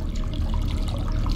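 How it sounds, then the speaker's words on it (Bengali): Water running steadily from a tap as a sound effect in a Bengali horror audio story, a continuous low rushing flow with no other sounds. "ক্ষীণ একটা শব্দ, যেন কোথাও কোনো জলের কল খুলে দেওয়া হয়েছে"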